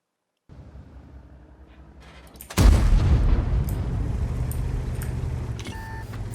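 A tank explodes in the video game World of Tanks: a sudden heavy boom bursts in after a quiet rumbling stretch, followed by a sustained loud roar and rumble that slowly settles, with a short electronic tone near the end.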